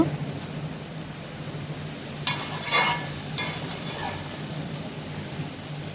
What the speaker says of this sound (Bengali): তারপরে আবার কাঁচা ঝাল দিয়ে দিয়েছি। আবার একটু নেড়ে চেড়ে নেব।